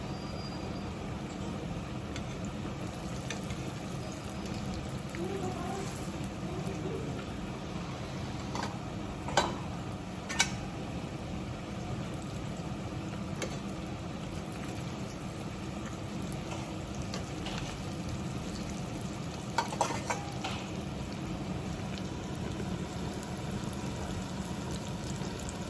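Pork ribs deep frying in oil for salt and pepper ribs with five spices, a steady low bubbling sizzle that runs continuously at moderate level, with a few brief clinks of utensils scattered through.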